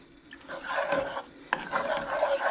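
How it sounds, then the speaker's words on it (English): Milk being stirred into parsley sauce in a pan, heard as a close, steady series of soft scraping and swirling strokes with a brief sharper knock midway and no talking. "Stir that in"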